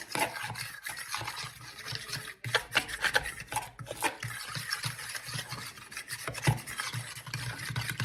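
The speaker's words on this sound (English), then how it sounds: "I'm gonna mix this till it's kind of smooth" A spoon works a pheasant sauce with salt and Worcestershire until smooth, giving a steady rasping, scraping stir that keeps going with small surges and no voice over it.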